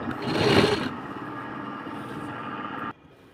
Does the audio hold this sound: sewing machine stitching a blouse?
yes